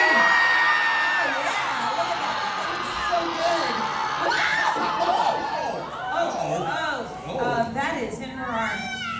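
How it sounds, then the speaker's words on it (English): An audience of adults and kids at a theme park horror makeup show screams together on cue, a loud sustained burst of shrieks and yells that rises and falls with whoops in the crowd. "Everybody scream!"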